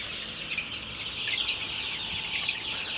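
Chickens in a hen house at night on a hot, humid evening, a continuous soft murmur of clucking and chirping from many birds nearby.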